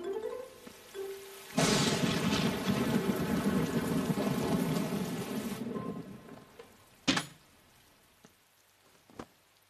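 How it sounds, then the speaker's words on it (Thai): Heavy rain pours down loudly and steadily for several seconds, then fades, with a sharp thunder crack and a later smaller rumble standing out alone. "ฝนตกหนักเลยพนันว่าหลายคนไม่ได้พกร่ม"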